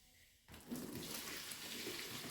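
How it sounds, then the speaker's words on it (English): Water is poured into a bathroom sink, a steady, soft rushing splash that starts abruptly and continues evenly at low volume. "I'm actually going to pour the water in the sink"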